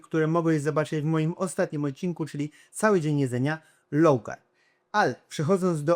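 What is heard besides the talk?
No everyday noise stands out behind the speech.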